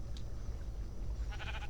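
A sheep in a video game bleats in a short, wavering cry near the end, moderately loud over a low background hum.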